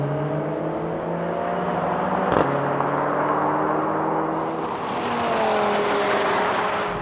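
Performance hatchbacks, including an Audi RS 3, Mercedes A45 AMG, Honda Civic Type R, VW Golf R and Ford Focus RS, drag race off the line; loud sustained engine roar with rising gear-shift pitch sweeps and a brief sharp crack midway.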